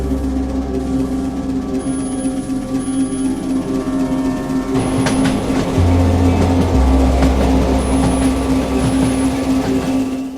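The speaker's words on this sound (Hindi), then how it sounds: "12 बजने वाले हैं, भूतिया ट्रेन आने का समय हो गया है" Train pulling in: a steady loud rumble with a constant mechanical hum, then rising clatter of wheels and a long high squeal and tones as it draws close.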